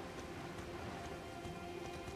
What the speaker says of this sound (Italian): E inizia a piovere.